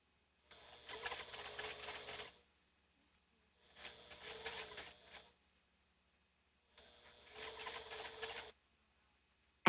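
Sewing machine stitching a dart in fabric, three separate bursts of steady rapid mechanical stitching, each about one and a half to two seconds long with short quiet pauses between, close and clear with no talking.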